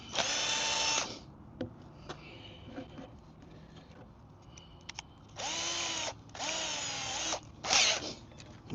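A power drill drives into wood during sandbox building: several short whirring bursts, one at the start and three in close succession near the end, separated by quieter gaps with faint knocks.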